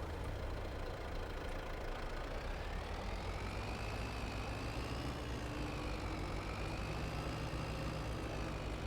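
A tractor engine in Farming Simulator 22 runs with a steady, low droning hum and faint knocking texture, constant and unbroken throughout with no speech.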